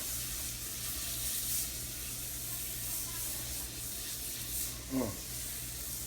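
Butter melts in a hot pan for chicken chardonnay, giving a steady, close sizzle that crackles evenly throughout, with a brief louder flare near the end.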